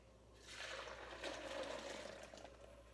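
Nut milk pours from a blender into a nut bag set inside a large bowl, a soft, faint splashing stream lasting a few seconds, with no talking.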